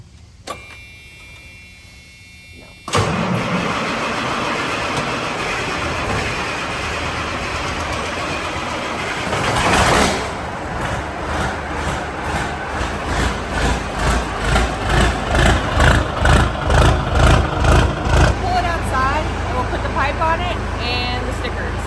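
Engine of a restored R Model truck cranks and fires after a quiet start, then settles into a loud, steady, rumbling idle with pulsing revs toward the end, close by.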